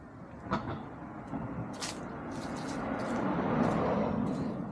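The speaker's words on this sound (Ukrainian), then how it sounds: "Тоді я зараз відкрию задні двері." Rear doors of a truck trailer being opened on a US road rig, with a few short metallic clunks and a sliding rattle over a steady low rumble that builds gradually.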